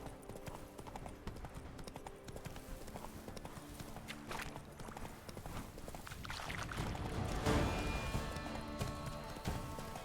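Steady clip-clop of the horse Roach's hooves in a video game, a rhythmic trot that grows slightly louder and busier toward the end, with no talk.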